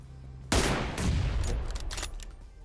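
A single M24 sniper rifle shot in PUBG Mobile fires loud and sharp, then a long rumbling echo tails off over the next two seconds with no talk.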